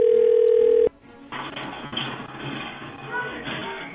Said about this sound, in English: now I'm going to call her back